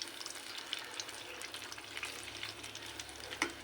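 Banana cue pieces frying in a generous amount of cooking oil give off a steady, fairly quiet sizzle and crackle, with scattered pops and a brief louder spatter near the end, no voices.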